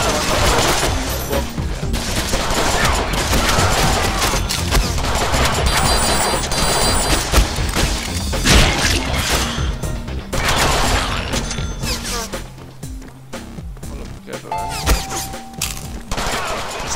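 Sustained machine gun fire rattles through a Deadpool video game battle, dense and loud for the whole stretch, mixed with booms, mechanical clatter and game effects.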